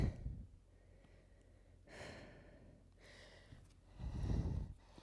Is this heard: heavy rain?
no